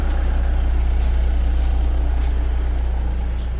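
An old vehicle engine idling nearby, a steady low rumble that runs unbroken throughout with no talking.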